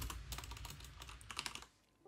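Rapid typing on a computer keyboard, dense clattering keystrokes at close range that stop abruptly near the end, leaving a short quiet gap.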